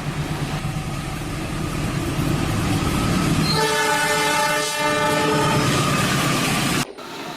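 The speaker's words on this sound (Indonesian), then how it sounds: "Ini kereta api teman-teman." A toy train runs with a steady rolling rumble, then a sustained horn-like tone with layered harmonics sounds from about midway, close and loud, before a sharp cutoff near the end.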